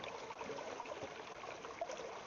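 Water pours steadily from a 4-liter water bottle, a continuous soft, close trickling splash at low level with no pauses or voices.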